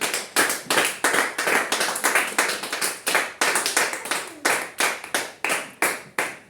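Congregation at a church service clapping in acclamation, close sharp handclaps in irregular bursts and rhythmic runs, loud with brief gaps and no talking.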